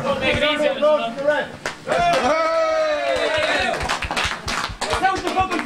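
Spectators clap at a Gaelic football match in Daingean, a steady patter of close, sharp hand claps running throughout, mixed with crowd chatter and nearby voices talking.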